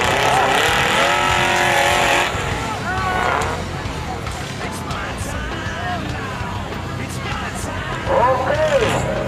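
4x4 off-road rally cars race at high speed on a hillside special stage near Bandung, engines roaring and revving loudly while a commentator talks throughout.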